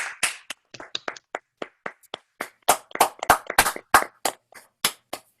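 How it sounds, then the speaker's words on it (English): An online audience claps hands for Guatemala: scattered, uneven claps from several people over unmuted microphones, sparse at first, then denser in the middle before thinning out again. "show our appreciation by clapping our hands for Guatemala"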